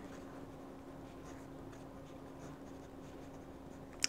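A Lamy Safari fountain pen with a fine nib scratching softly across paper in black ink, a faint continuous writing sound over a low steady hum, close and quiet.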